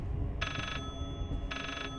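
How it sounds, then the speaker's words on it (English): A telephone rings in the Layers of Fear video game, two clear bursts of a trilling bell separated by a pause, sounding moderately loud against a low ambient rumble. "Oh, it must be for me. Where's the phone?"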